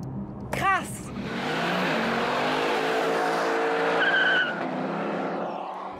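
A V8 convertible, a Corvette C8 Stingray or Lexus LC 500, launches hard from a standstill with a brief tire chirp, then a loud, sustained engine roar building through the gears, with voices talking over it.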